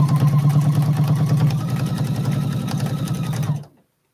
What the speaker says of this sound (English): I'm going to start up here and I'm going to sew farther on the other side.